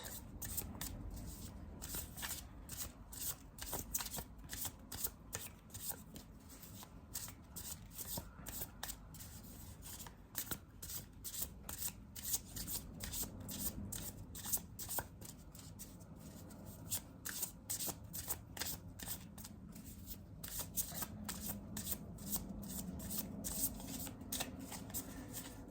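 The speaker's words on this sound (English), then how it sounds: "let's pull 3 cards for advices" Tarot cards shuffled by hand over a long stretch, a steady close riffle of rapid papery flicks with no pauses.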